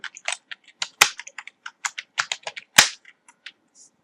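Close, crisp clicking of computer keys in quick irregular bursts, with two sharper, louder strokes standing out, likely the space or enter key, and no voices.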